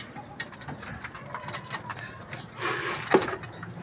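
Pigeons coo softly nearby, their low calls mixing with light shuffling and a few faint knocks, with a brief voice in the background.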